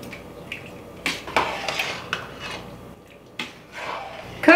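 Big spoon stirring honey powder into peach and plum jam with lemon juice in a pot, making irregular wet scrapes and knocks against the pot, with quiet sloshing between strokes.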